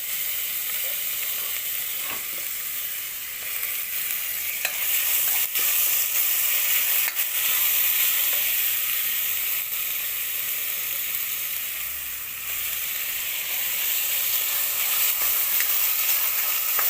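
Tomatoes frying in a pan with turmeric while being stirred, a steady loud sizzle with occasional scraping strokes.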